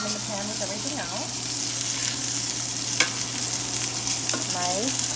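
Browned oxtails sizzle in a pan for braised oxtails, giving a steady close hiss broken by a few clinks from handling in the pan.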